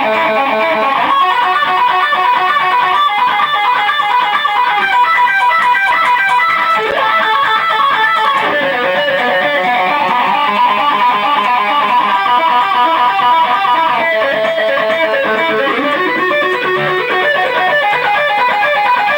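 Electric guitar plays a picked lick through wah and filter effects, a continuous loud bright line of rapid notes with sweeping tone changes, heard alone.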